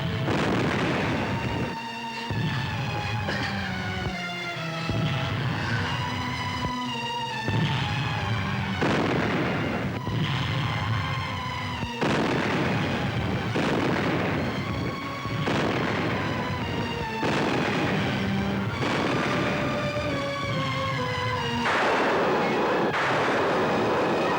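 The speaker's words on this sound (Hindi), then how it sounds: "यहाँ बारूद फट रहा है, जल्दी उठो।" Repeated gunpowder blasts and booms from a 1968 Hindi film scene, a long run of loud bursts coming every second or two over a dense rumble, with no talk over them.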